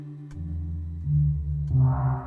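Orchestral gongs from the VSL Special Edition sample library ring out in two strikes, each a deep, sustained metallic swell with shimmering overtones that blooms and lingers under the next hit.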